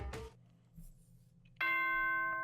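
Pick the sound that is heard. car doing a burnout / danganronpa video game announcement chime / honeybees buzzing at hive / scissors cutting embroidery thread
danganronpa video game announcement chime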